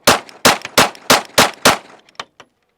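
Six sharp, loud pistol shots from a Glock 43X/48 fitted with a Radian Ramjet, fired in a quick evenly spaced string, followed by a few fainter metallic clinks and echoes.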